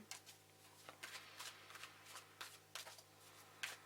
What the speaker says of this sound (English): keep going ahead shuffling new cards to go more in details into what they want to tell you